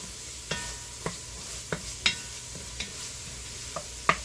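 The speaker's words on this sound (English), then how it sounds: "I'm only going to saute that for a couple minutes. You don't want your garlic to burn." Garlic sautés in butter in a pan, a faint steady sizzle punctuated by a regular series of light spoon taps and scrapes against the pan, heard close and alone.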